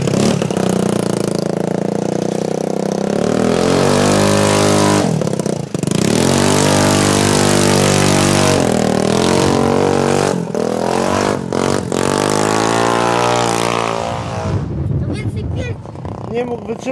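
A two-stroke 50cc enduro scooter engine revs hard and loud close by, its pitch climbing and dropping in repeated surges with rattling clatter, then cutting off near the end.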